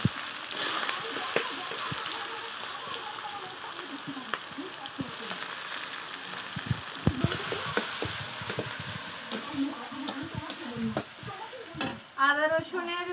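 Whole garam masala, dried red chilies and whole garlic cloves sizzle and spit in hot oil with steady stirring, a continuous close crackle punctuated by scraping and clinks of the spoon against the pan.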